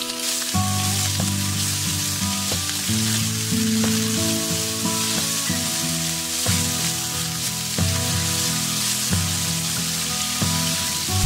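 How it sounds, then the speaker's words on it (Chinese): Minced meat stir-fries in hot oil with scallion, ginger and garlic, a loud, constant close sizzle with spatula scrapes and clanks against the wok and soft music underneath. "加入肉末，炒至变色。"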